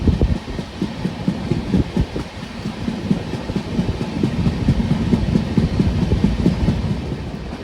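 The Darshan Express, a non-AC train, runs fast at night, heard from near an open door as a loud, steady rumble with rapid rhythmic clickety-clack of wheels over rail joints throughout.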